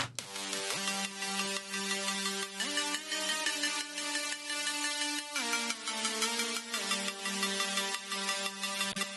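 Three stacked synthesizer leads play a bright, buzzy melody together, sustained notes gliding between pitches with a steady pulsing rhythm.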